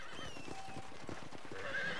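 A horse whinnies briefly over a few clopping hoofbeats in Red Dead Redemption, with a faint game-like musical tone in the background.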